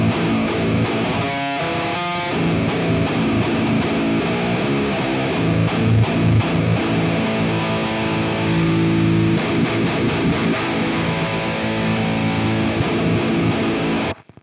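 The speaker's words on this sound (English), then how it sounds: "I'm going to set the distortion quite high" A heavily distorted electric guitar plays loud, dense chords in a thick, saturated heavy tone with sustained notes. It plays continuously for about fourteen seconds, then cuts off abruptly.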